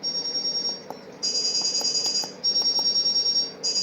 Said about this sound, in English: Sorry about the noise of the phone going off.